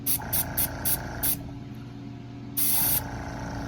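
Paint spray gun spraying car paint for a chip repair blend, with five short quick bursts of close spray hiss followed by a pause and one longer burst over a low background hum.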